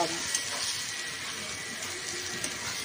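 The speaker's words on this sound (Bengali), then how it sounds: "এবারে চিংড়ি মাছগুলো আমি দিয়ে দেব। দিয়ে ভালো করে কষিয়ে নেব।" Prawns fry with spices in a pan, giving a steady close hiss of sizzling that runs the whole time with small bubbling pops and no pauses.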